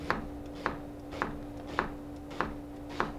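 A chef's knife chops a vegetable on a cutting board in six crisp, evenly spaced strokes about half a second apart, close and clear over a faint steady hum.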